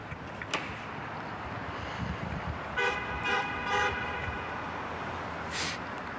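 Car horns from passing drivers cheering for Boise State, sounding near an outdoor women's college soccer match against Oregon; a few short toots come at a moderate distance over steady open-air crowd and wind noise.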